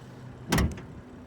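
A single solid thump as the hood of a 2016 BMW 435i Gran Coupe with the M Performance kit is shut, one short heavy impact in a quiet setting.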